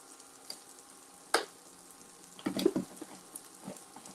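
Libby's country sausage gravy simmering in a pan alongside sausage patties, a soft low bubbling hiss with a sharp clack and a brief louder burst of stirring, close and mostly quiet.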